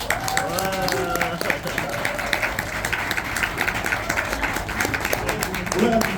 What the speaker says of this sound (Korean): 저자 네 분께서 앞으로 나오실 때 모두 큰 박수와 함성 부탁드리겠습니다